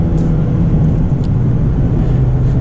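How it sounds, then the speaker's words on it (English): Steady broadband wind and road roar inside a 2022 Mazda MX-5 Miata Touring cruising at 50 mph with the soft top up, a constant low rumble filling the cabin with no talk. "there's a lot of wind noise here with the top up"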